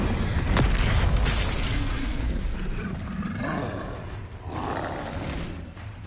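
Spells Confringo and Incendio are cast in Hogwarts Legacy. A loud booming blast comes first, then a steady roaring, fiery rush that swells and fades over several seconds.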